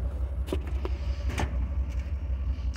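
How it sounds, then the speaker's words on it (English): A truck engine idles smoothly with a steady, close low rumble throughout, broken only by a few faint clicks and knocks. "y'all hear the truck is running pretty truck is just a purr"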